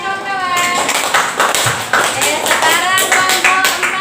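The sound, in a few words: children clapping hands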